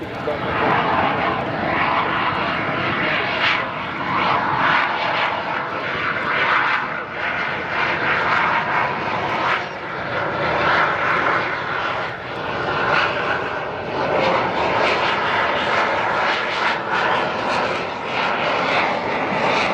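A Gripen fighter jet passes low and slow, its engine roar loud and steady with rumbling swells throughout.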